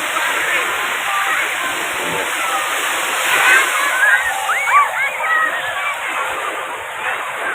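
Sea water splashing and sloshing around people bathing at Krui beach in Pesisir Barat, Lampung, a continuous loud wash of surf and splashes with voices mixed in.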